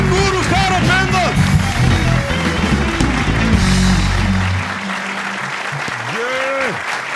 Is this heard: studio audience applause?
yes